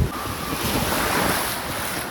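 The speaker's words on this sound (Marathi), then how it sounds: "मोठ्या मोठ्या जोराच्या लाटा येत आहेत" Big, strong ocean waves roll in at Murud beach near Dapoli, a steady, loud rushing surf mixed with heavy wind buffeting the microphone, with no voices.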